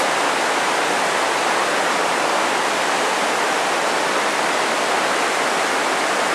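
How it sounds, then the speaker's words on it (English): River overflowing its banks and pouring over rocks in a canyon, a loud, dense, unbroken roar of rushing water filling the whole clip with no voices. "Right off the old river. It gets too full. Overflows. Right up over here, over these rocks."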